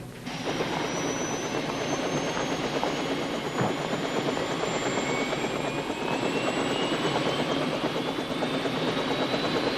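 A helicopter drones loudly and continuously nearby, its rotor whine rising slowly in pitch over the steady engine roar.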